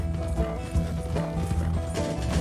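Horse hooves clip-clop steadily in Red Dead Redemption II, a close, even trotting rhythm with game music or ambience underneath throughout.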